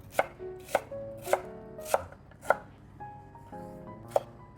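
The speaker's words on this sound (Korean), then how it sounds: "감자 한 개를 잘게 네모 모양으로 썰어주세요" A kitchen knife chops a potato into small cubes on a board, sharp close knocks in a steady rhythm, about seven strikes with a short pause near the end, no talking.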